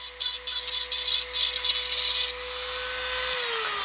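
A small rotary tool whines steadily with a high tone, its pitch pulsing as it carves indents into a plastic dollar store toy, then spinning down and easing off toward the end. The tool is close and loud, with no talk.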